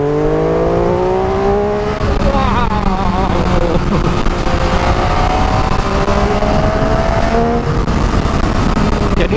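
An MV Agusta F3 800 sport motorcycle engine revs hard and accelerates, its rising harmonic whine loud and close for the whole stretch, dipping briefly around a gear change before climbing again.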